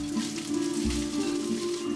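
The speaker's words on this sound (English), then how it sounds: "your entire steaks are going to be nice and crispy and sizzling" Steak fajitas frying in a hot pan, a steady close sizzle and crackle of meat searing in oil with a low hum underneath, no talking.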